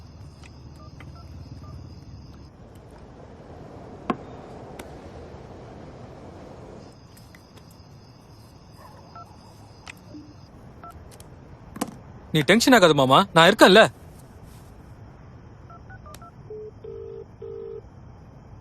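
A telephone is dialed indoors in a short burst of rapid keypad tones near the middle, with a few isolated beeps and a voice speaking before it against faint background hum.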